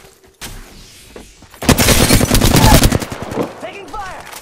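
Apex Legends gunfire on PS4: after a faint lead-in, loud, dense bursts of rapid automatic shots hit hard and close, easing off toward the end.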